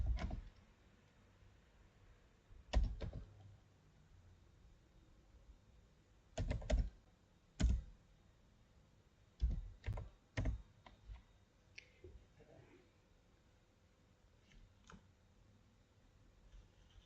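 Scattered keystrokes on a laptop keyboard while entering a network command, sparse clicks in short clusters with pauses between, close and fairly quiet, no voices.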